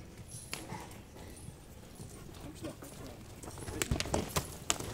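Horses clip-clop as they walk with irregular hoofbeats at moderate distance, faint at first and growing louder and sharper toward the end.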